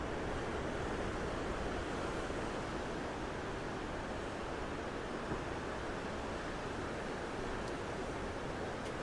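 Ocean surf rolls in at Snapper Rocks as a continuous, fairly faint wash of broadband noise with a touch of wind, with no voices over it.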